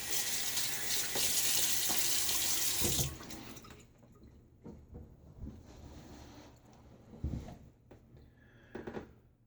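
A tap runs loudly for a few seconds then shuts off, followed by softer splashing and dripping as water is splashed on a face, close by.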